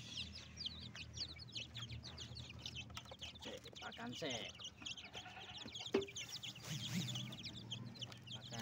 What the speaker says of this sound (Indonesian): Ayam kecil-kecil.